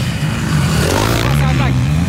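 Motocross motorcycles, vintage two-strokes such as a Honda CR250 and CR500, rip past during a sand race heat, with loud revving engine pitch rising and falling as bikes pass close by.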